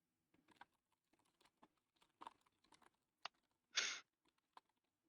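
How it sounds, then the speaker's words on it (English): Keystrokes on a computer keyboard tapping in irregular bursts, close and fairly quiet, with one longer louder rustle midway and no talking. "I'm typing."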